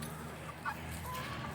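Hens cluck softly in a backyard chicken coop in an Indiana garden, a few faint, brief calls over a low steady background hum.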